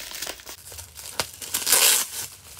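Someone tears open a heavily wrapped parcel, with crinkling plastic or paper and short ripping bursts, one louder sustained tear near the end, close and alone.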